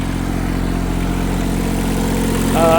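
The diesel engine of a 1984 Kubota L235 tractor runs steadily at close range with a low, even throb. A brief higher mechanical whine rises near the end.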